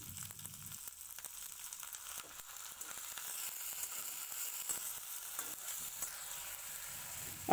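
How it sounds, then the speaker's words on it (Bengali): Ginger paste fries with fried onion and garlic in a pan, giving a steady, soft sizzle that runs the whole time at close range with no speech. "আর আদাটা সুন্দরভাবে কষিয়ে নেওয়ার জন্য সামান্য একটু জল দেব।"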